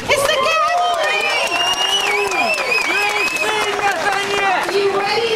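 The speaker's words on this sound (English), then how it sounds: "It's a huge, huge crowd here." A large political rally crowd in Richmond fills the space with dense cheering, whistles and shouts over steady clapping, a loud, continuous and overlapping roar of many voices.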